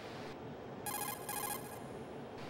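A telephone rings in the Metal Gear Solid 2 video game, giving two short electronic trilling bursts that sound faint and thin against a steady background hiss, with no talking.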